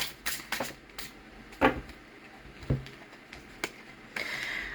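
Playing cards slide and snap from a deck being shuffled and drawn, a series of quick crisp flicks and taps up close, quiet and sparse with short gaps between.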